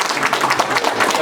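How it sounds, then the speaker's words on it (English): Crowd applauding at a Republican club grand opening in New York, dense steady clapping from many hands that fills the room without a break. "saying let's give a round of applause."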